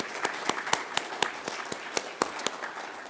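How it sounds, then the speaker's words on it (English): Sparse applause at a biofuels leadership conference, a handful of distinct, evenly spaced claps with soft background murmur, fairly quiet and thin rather than a full crowd. "So if we could have a round of applause for Jim and Flavia, I appreciate it."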